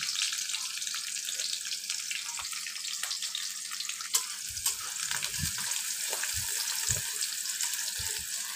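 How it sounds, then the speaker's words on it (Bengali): Onion and garlic fry in a pan for a Bengali shing fish bhuna, giving a steady, close, hissing sizzle with scattered soft clinks and stirring knocks throughout, without talk. "পেঁয়াজটা রসুনটা আমি একটু ভেজে নিচ্ছি।"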